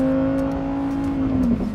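A Lamborghini Huracan STO drives along at steady speed, its engine holding a loud, sustained tone with a slight dip near the end, with no talking over it.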